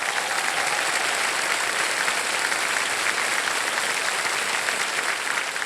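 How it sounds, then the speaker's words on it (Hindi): Studio audience on the Kaun Banega Crorepati quiz show applauds in a steady, dense wash of clapping that holds at an even loudness throughout, with no voices above it. "तालियां बज जाए इनके लिए।"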